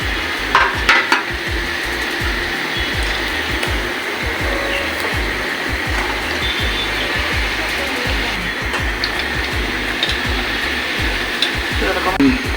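Fish head fries in hot oil for mung dal, a loud and steady sizzle with a crackling spatter that runs without a break and has no talk over it.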